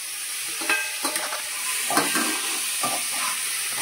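Tomatoes tipped into a curry frying in a pan: a steady loud sizzle with scraping stir strokes and small pops, close up and continuous, no talking.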